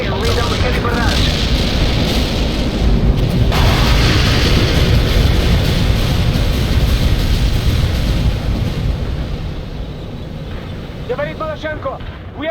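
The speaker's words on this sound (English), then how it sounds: "We can deploy and lay down the heavy barrage." Heavy artillery barrage in the World in Conflict strategy game, a dense continuous rumble of booming explosions that fades toward the end, where brief radio-style voices break in.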